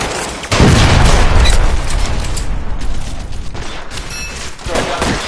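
Heavy gunfire in the crime video game L.A. Noire, a loud sustained burst of shots and booms crowding the scene, easing slightly before renewed firing near the end.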